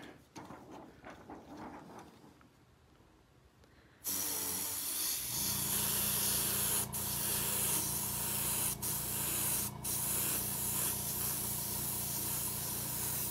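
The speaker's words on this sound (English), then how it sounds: "You see how I keep spraying the air for a second?" Continuous loud hiss of a spray bottle misting the air during tattooing, starting abruptly after a few seconds of quiet background and running steadily with brief interruptions.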